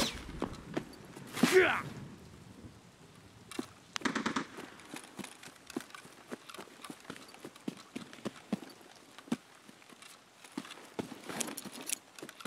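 Gunfire in Escape from Tarkov: sharp, scattered cracks and short rattling bursts, fairly faint, spread across the clip, with a louder burst early on.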